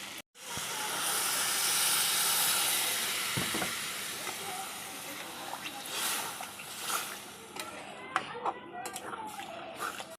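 Water poured into a frying potol and potato curry erupts in a loud hissing rush of steam that swells, then settles into a bubbling simmer with light utensil clinks.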